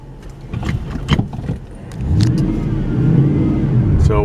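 A car climbs a paved stretch of County Road 23.3 past the Rancho Escondido sign, its engine droning and rising steadily from inside the cab. A few thumps and rattles come early, and someone talks briefly.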